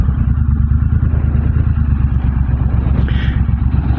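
A 2022 Triumph Bonneville T120 twin engine rumbles steadily and loudly close by during a test ride, a deep continuous throb with a brief higher whine near the end.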